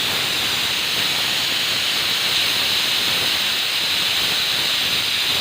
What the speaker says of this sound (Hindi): अब इसका हम गैस बंद कर देंगे और साथ ही इसका प्रेशर निकाल देंगे, सीटी को निकाल के।